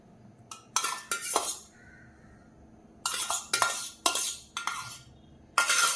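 A utensil beats sugar and egg yolk in a bowl for honey cake batter, scraping and clinking in sharp rhythmic bursts, then pausing quietly, then starting again with several more strokes.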